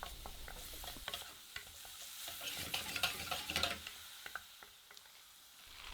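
Chopped onions sautéing in olive oil in a pot, a soft continuous sizzle under repeated scrapes and clinks of a spoon stirring against the metal, steady and close.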